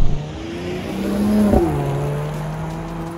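A Mercedes-AMG GLE 53 Coupé SUV of 435 hp taken through corners, its engine note climbing and shifting with a brief gearchange blip, heard close from the cabin without speech.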